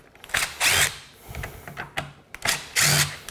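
A power drill backs screws out of a circular saw housing in several short, close whirring bursts separated by brief pauses and faint handling noises.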